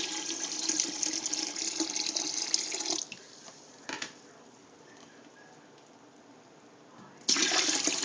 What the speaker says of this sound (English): I'm gonna add cold water this time